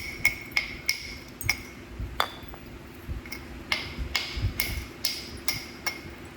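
A 7-inch Flint River Hernando point is flintknapped, with sharp ringing clicks from repeated strikes against the flint to gouge and flatten it, arriving in irregular clusters and loud up close, with no talk.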